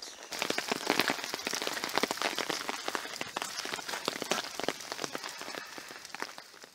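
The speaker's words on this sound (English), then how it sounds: "It's raining again." Steady rain falls on a bushwalk near Mt Damper Falls, a close, dense patter of drops hitting surfaces with no voices over it.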